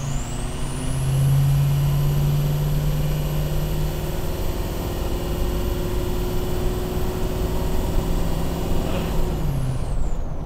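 School bus diesel engine taking a steady half-throttle pull with turbo boost building to about 17 PSI. A sustained loud drone carries a rising turbo whistle for roughly nine seconds, then eases off with a brief hiss at the end.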